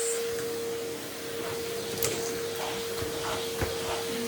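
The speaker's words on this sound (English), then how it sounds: "Vacuum their bed." A vacuum cleaner runs over a pet bed at home, a steady motor whine and airflow hum with a few scraping bumps and knocks as the nozzle moves across the fabric.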